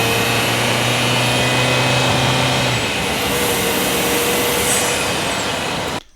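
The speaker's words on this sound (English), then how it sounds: "I love those turbo noises" A steady Ford rally car engine drone with a rising high-pitched turbo whine that swells and fades, fairly loud and continuous, ending abruptly.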